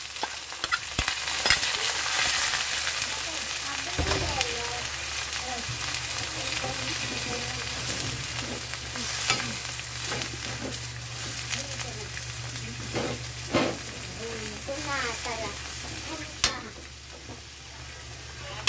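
One kilo of ampalaya (bitter gourd) sautéing in a pan, with continuous oily sizzling and repeated scraping stirs of a utensil against the pan, plus occasional sharp clanks and muffled voices in the background.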